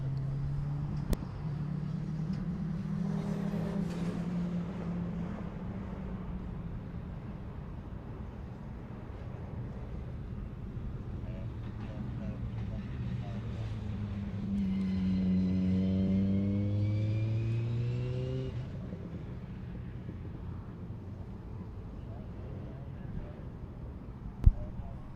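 Rallycross Supercars race around Mondello Park, engines droning and revving at a distance with a car sweeping past mid-way in a rising, falling howl, over a steady background rumble.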